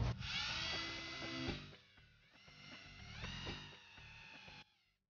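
A power drill whirs in sustained bursts, rising and dipping in pitch as it drives screws into a modular hogwire fence panel; close and fairly loud, trailing off at the end, with no talking.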